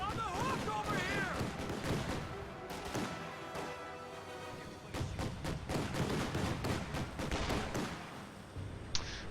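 Gunfire and artillery crackle and boom through a strategy video game battle, a dense continuous barrage of sharp shots and heavy thuds, with game voice lines and effects layered over the fighting throughout.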